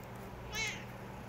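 A pet cat gives a single short meow midway, fairly close, over a low steady background hum.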